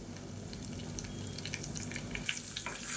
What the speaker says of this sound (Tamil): கடுகு சோம்பு பொரிய ஆரம்பிக்கவும்